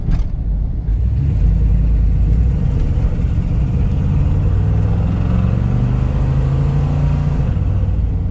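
Steady low exhaust drone from inside a moving Dodge Ramcharger fitted with a Holley Hooker exhaust and two mufflers, a continuous deep rumble with a mild engine hum throughout.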